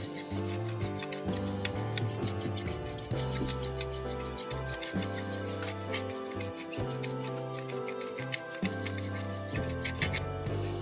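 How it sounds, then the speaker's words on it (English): A smooth hand file works back and forth across a thermal printer cutter blade, making rapid, even rasping strokes over a steady tonal background. "I'm going to position my file this way and gently file back and forth over time."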